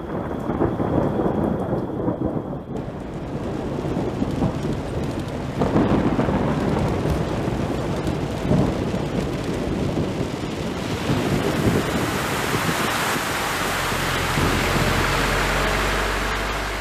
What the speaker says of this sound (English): Got some bad weather moving in. Looks like we might have some heavy rain tonight.